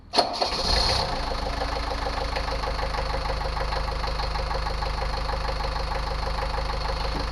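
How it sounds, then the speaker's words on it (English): A Mercedes diesel engine cranks briefly after glow plug warm-up, catches within a second and settles into a steady, even idle that runs on alone and fairly close. "Now it's ready to crank up."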